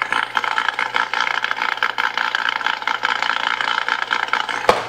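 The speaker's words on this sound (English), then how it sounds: "It was a pretty deep idle. It was a rotary, so it sounded pretty throaty" A Mazda RX-7 rotary engine idles with a deep, throaty, steady drone and a faint rattle, close by and with no talking.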